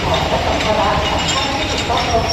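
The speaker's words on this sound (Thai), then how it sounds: "ตอนนี้ขบวน 281 ก็กำลังเคลื่อนตัวออกจากสถานีมักกะสันนะ ฮะ" Thai ordinary train 281 pulls out of Makkasan station in Bangkok with a steady rolling rumble and faint metallic clinks, while someone talks over it.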